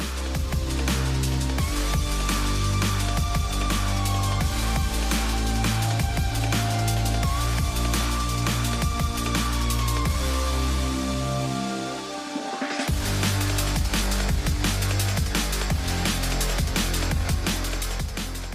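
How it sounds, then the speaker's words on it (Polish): Soundtrack music from the video game Swarmlake plays continuously with a steady pulsing beat and layered tones, dipping briefly around the middle before picking up again, with no talking over it. "Na uwagę zasługuje również świetny soundtrack towarzyszący nam przez całą rozgrywkę"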